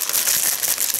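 A plastic dough bag crinkles and rustles loudly up close in a dense, continuous crackle with no speech over it.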